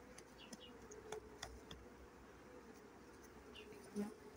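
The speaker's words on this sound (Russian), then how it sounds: "Пчелы." Honey bees buzz around a northern Crimean style hive, a faint close hum with individual bees zipping past the microphone, no speech.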